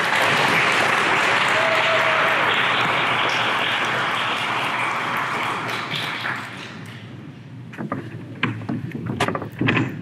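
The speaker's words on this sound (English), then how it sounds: "A round of applause for Art." Sustained applause from an audience at a Hall of Fame ceremony, dense and steady for about six seconds, then thinning to scattered claps as it dies away.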